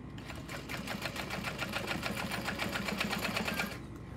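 A sewing machine set to stitch length 5 runs steadily for about three and a half seconds with a fast, even mechanical chatter, close and fairly loud, then stops.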